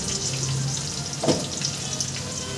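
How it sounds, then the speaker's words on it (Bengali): Close, steady sizzle of cumin and black cumin seeds frying in hot oil, with a brief clink partway through and no talking. "জিরা আর কালো জিরা একটু ভেজে নিয়েছি"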